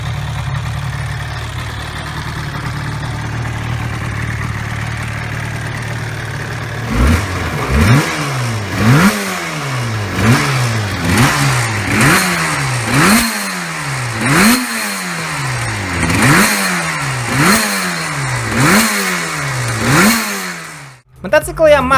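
A Yamaha RZV500R two-stroke V4 motorcycle engine idles low and steady, then is blipped in repeated sharp revs that rise and fall in a regular rhythm, loud and close, with a final burst at the end.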